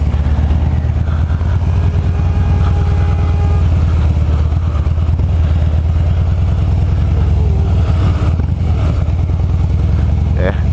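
A Harley-Davidson motorcycle rides along a mountain road, its engine a steady, close, low rumble with wind noise that holds evenly throughout.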